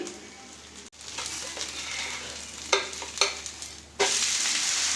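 A rava dosa fries on its second side in a pan with a constant sizzle, interrupted by a brief gap, a few spatula scrapes, then a sudden louder burst of hissing near the close.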